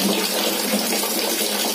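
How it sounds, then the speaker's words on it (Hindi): Water pours steadily off a Persian cat in a tub during a bath, a continuous close splashing rush with no talking. "ये होने के बाद सारा पानी ऐसा उतार दिया करें आप"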